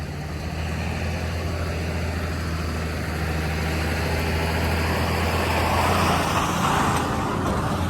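A steady, loud engine drone with low rumble from a John Deere tractor mowing roadside grass close by, continuous throughout with road noise mixed in.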